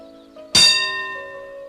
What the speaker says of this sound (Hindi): ओह, घंटी बज गई।